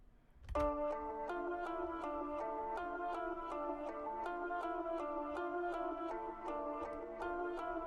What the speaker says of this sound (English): It's a simple melody, and it sounds way better with a real guitar playing it.